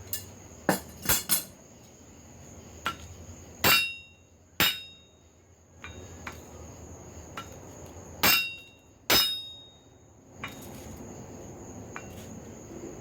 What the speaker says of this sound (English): it's struck on this end with a hammer while it flattens out the imperfections in the piece